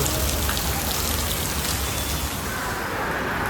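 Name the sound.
heavy rain falling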